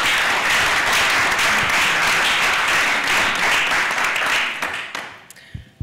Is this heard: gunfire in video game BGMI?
no